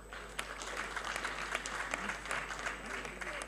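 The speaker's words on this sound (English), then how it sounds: "Clap for him." Audience applause for comedian Akpororo at a live comedy show, a sustained wash of clapping from a crowd at steady loudness with a faint voice underneath.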